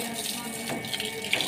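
Water running steadily from a hose while washing a car at home, a broad hiss and splash, close by and fairly loud, continuing through the whole stretch without pause.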